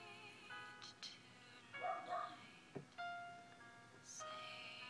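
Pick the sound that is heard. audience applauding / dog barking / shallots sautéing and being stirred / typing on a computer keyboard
dog barking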